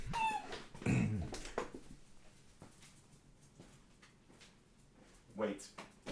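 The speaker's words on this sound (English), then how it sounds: "We gotta let this dog out." A dog whimpers and yips close by in a home, short bursts at the start and near the end, while a person talks over and between the sounds.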